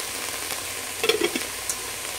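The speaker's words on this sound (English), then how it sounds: "So we'll give that a stir." Ground turkey chili with ground ginger and garlic being stirred in a hot pan, with a few quick scraping strokes over a steady close sizzle, all in about two seconds, with no voices.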